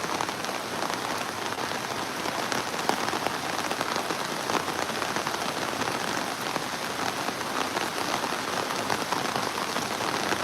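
Heavy rain pours down on a flooded work site in Uzhavoor, a dense, even roar of drops striking surfaces, close and unbroken, with no voices.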